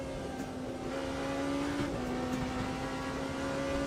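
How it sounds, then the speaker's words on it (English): Race car engines in the Le Mans Ultimate racing game, a faint steady engine drone with a sustained tone that dips and shifts pitch partway through, heard alone. "Generic car racing game."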